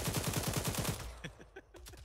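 Automatic gunfire in Arma 3, a fast even burst of about nine loud close shots in under a second, followed by a few scattered distant reports, with no talking.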